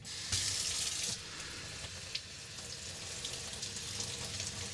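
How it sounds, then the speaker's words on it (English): Water from a tap rinses steadily down through an Eventuri air intake filter element and drains out the bottom, a continuous close hiss and splash with a brief louder gush near the start and no talk. "So we're going to run water down through this element and out the bottom."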